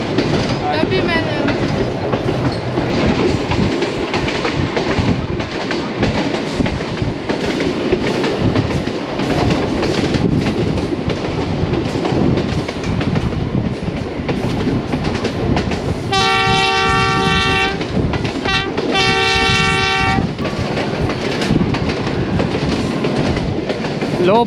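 A Bulleh Shah passenger train runs between Lahore and Khudian Khas with a continuous loud rumble and clatter of wheels on rail, then gives two long, close horn blasts near the end, separated by a brief gap.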